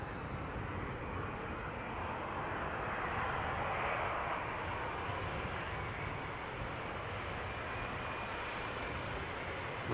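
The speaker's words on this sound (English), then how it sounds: "Dreamliner arriving from Montreal" A Boeing 787 Dreamliner airliner arriving from Montreal passes on approach to Amsterdam Schiphol's Polderbaan runway on a hot sunny day, a steady broad jet-engine roar swelling slightly mid-way, distant and sustained with no talking.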